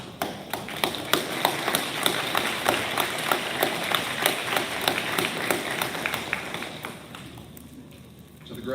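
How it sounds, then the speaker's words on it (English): Audience at a basic law enforcement academy graduation ceremony applauding graduates' families and friends, a dense, steady burst of clapping with sharp individual claps standing out, sustained for several seconds before thinning and fading near the end. "Class 2203, give your family and friends a round of applause for their support"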